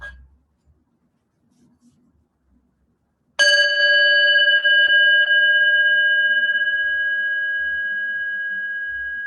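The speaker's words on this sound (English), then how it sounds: "I will ring one chime bell at the start and then 3 at the end." After a few seconds of near silence, a meditation chime bell is struck once, ringing out clear and loud with a long, slowly fading sustain.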